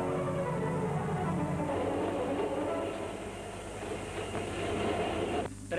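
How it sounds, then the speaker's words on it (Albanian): A train rolling past on the line: a continuous heavy rumble and rattle of wagons, fairly close and steady throughout, with no talk. "Treni 44 kaloi."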